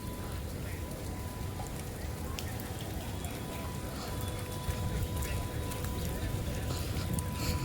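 Steady rain falls on a large open ground beside a compound, a constant soft hiss of drops with no break.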